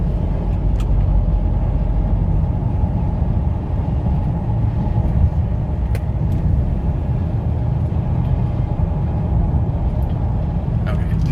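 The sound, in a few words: 2007 Ford Explorer Sport Trac V8 engine shifting out of overdrive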